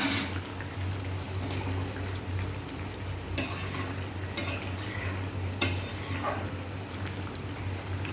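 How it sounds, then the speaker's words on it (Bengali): Curry broth with potatoes bubbling in a pot on a home stove, a steady low simmering hiss with soft bubbling and a few sharp clinks from a spoon against the metal, close by and without talk. "এই যে ঝোলটা ফুটছে"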